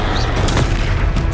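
In the video game Hogwarts Legacy, a Confringo spell blast lands during a troll fight as a loud, booming explosive burst that fills the brief moment.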